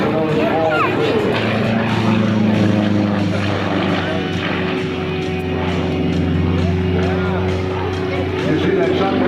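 Aerobatic propeller plane at an airshow, its engine droning with steady tones and shifting pitch as it maneuvers, heard through crowd noise and an announcer talking over it.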